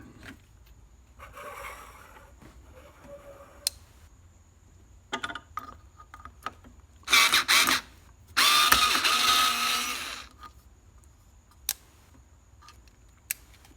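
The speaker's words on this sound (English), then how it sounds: "Let's take a bit and put some screws in the 2x4." A HYCHIKA rechargeable electric screwdriver drives screws into a 2x4 with short whirring bursts and ratcheting clicks, separated by quiet gaps, with two longer, louder runs near the middle and scattered handling taps.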